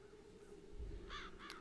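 Crows caw twice in quick succession over a steady ambient hum in the fantasy adventure game The Dark Eye: Chains of Satinav, moderately close, with no talking.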